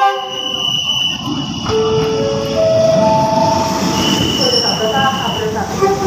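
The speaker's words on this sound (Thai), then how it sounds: "คันนำ NKF 1206ครับเข้าชานชาลาที่1นะครับผม" A commuter train led by car NKF 1206 rolls into a station platform, its wheels squealing with sustained high-pitched tonal screeches over a steady, loud rumble throughout.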